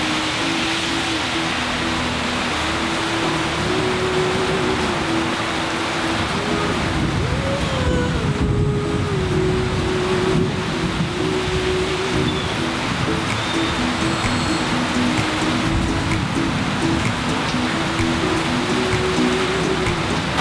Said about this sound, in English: Well, I hope you can hear me over the rain. It is crazy out there.